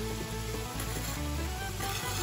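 Chopped onions slide into a hot chili pot with browning meat, giving a loud, steady close sizzle and frying hiss that fills the whole moment, with no talking over it.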